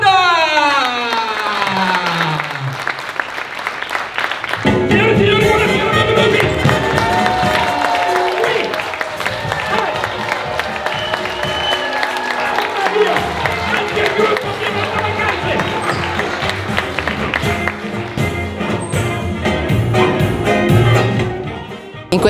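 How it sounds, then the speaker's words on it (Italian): A festival crowd at a ceramics fair applauds and cheers as a comic performer is introduced, starting with a rising musical sweep, then sustained loud clapping, whoops and shouts carrying on for about twenty seconds. "un grande applauso per Francesco"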